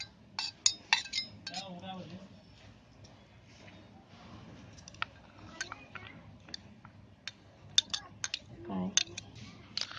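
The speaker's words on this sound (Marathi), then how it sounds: "आता हे सर्व साहित्य आहे ना, आपल्याला एका बाउलमध्ये सर्व मिक्स करायचं आहे" Pizza sauce ingredients are stirred together in a bowl, a spoon clinking and scraping against the sides in scattered bursts while someone talks over it.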